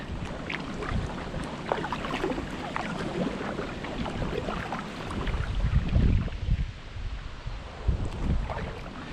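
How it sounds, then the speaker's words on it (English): Wind buffets the microphone while kayaking along the Wey Navigation near Pyrford, a continuous rumbling gusty roar that swells and eases, with no talking. "It's quite windy, but as you can see from that Union Jack flag, it's blowing me along."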